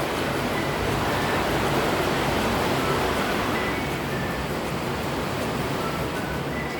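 Dense, steady roar of heavy rainfall, loud and unbroken throughout, with no voices.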